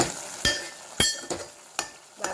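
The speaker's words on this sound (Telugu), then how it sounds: "సో ఆనియన్స్ అయితే మనకి వేగుతున్నాయి." Onion paste and green chillies fry in a pan with a steady soft sizzle, broken by several sharp stirring scrapes at roughly half-second intervals, close and moderately loud.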